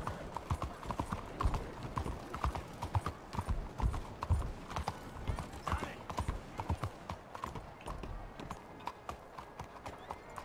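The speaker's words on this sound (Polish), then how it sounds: "No ten koń jest świetny." An elite Arabian horse in the Western game Red Dead Redemption 2 clip-clops along at a steady walk. The close hoofbeats run continuously throughout, with a brief whinny among them.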